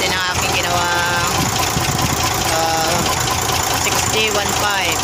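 Fuso 6D15 turbo diesel truck engine, just rebuilt, runs at a steady idle with a loud, close, continuous knocking rumble and shifting whines over it throughout.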